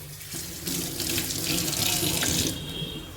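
Tap water runs steadily into a sink while fresh coriander is washed, a continuous close hiss and splash that swells slightly and then eases off, with no talk.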